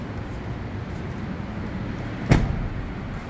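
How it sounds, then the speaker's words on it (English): The door of a 2016 Range Rover Sport is shut with a single solid thump, short and close, over a steady background hum. "Doors sound awesome when they're shut."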